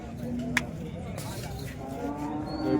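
A dairy cow at a busy cattle market in Modnimb lows a couple of times, low and moderately distant, amid crowd murmur and background voices.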